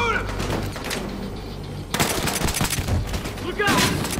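Loud bursts of rapid gunfire in a firefight from the shooter game Battlefield Hardline, crackling in two dense volleys with a brief lull between, mixed with shouted in-game voices.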